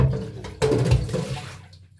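Food being washed under running water, a splashing gush that swells suddenly partway through, then tapers off as the flow eases, close and fairly loud with no talk.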